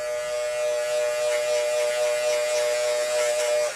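An electric hair clipper buzzes steadily and close up, a constant tonal hum that holds for a few seconds before cutting off, with nothing else heard.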